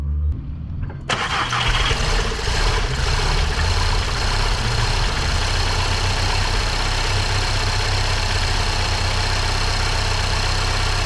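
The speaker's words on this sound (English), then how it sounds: "We got a working engine" A wrecked 2017 VW Golf R engine cranks after a short quiet moment and catches. It then settles into a loud, steady idle that runs on without a break.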